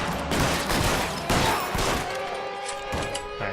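A shootout in the LA Noire crime game brings a run of loud, close gunshots in quick bursts that fade into a lingering ringing tail.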